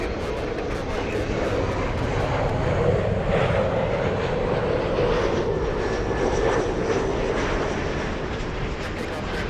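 An airliner takes off from runway 24 left at LAX with a broad, steady jet roar at moderate distance that swells slightly in the middle, while voices talk faintly underneath.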